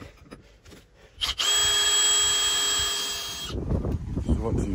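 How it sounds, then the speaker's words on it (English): A power drill whines at a steady high pitch for about two seconds while boring through a metal plate for a boat deck mount, close and loud, followed by clattering handling noise. "Now we've done the pilot holes, we'll be able to go through the metal."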